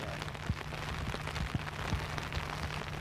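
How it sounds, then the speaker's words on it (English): Steady rain falling on a golf course at the Scottish Open, a soft continuous patter with occasional heavier drops, fairly faint and even, with no talking. "it has been raining pretty steadily now since, what, 6, 7 o'clock this morning"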